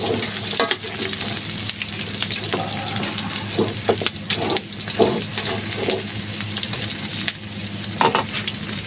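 Garlic sizzles and fries in hot oil as it is stirred for adobong putok batok, a steady close crackle with scraping strokes of the utensil and some watery hiss.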